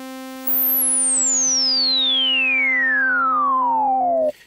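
A SynthMaster One synth filter sweep glides steadily downward from very high to low over a sustained harmonic-rich tone, lasting about four seconds at a moderate level before cutting off cleanly.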